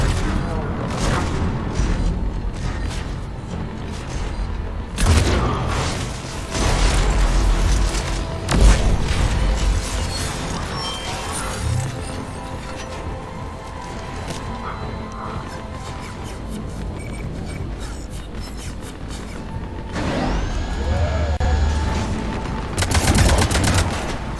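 A shotgun fires repeatedly during a Mass Effect 3 firefight, with sharp booms and bursts of gunfire scattered among other combat effects, and a voice talks over the action.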